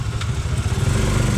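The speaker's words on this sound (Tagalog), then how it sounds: "Kadena ng motor." A motorcycle runs close by with a steady, low, pulsing rumble, and its chain and engine churn on without pause for the whole stretch.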